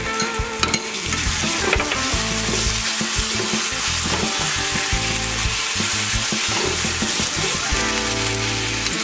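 Kashmiri chilli powder and turmeric frying in hot oil while being stirred, a loud, close, continuous sizzle with repeated scraping strokes of the spoon and no voices.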